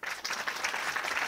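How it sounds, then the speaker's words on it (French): An audience at a live French podcast recording claps, a short burst of dense, steady applause from a crowd, close and moderately loud. "on vous voit pas donc vous pouvez applaudir honnêtement"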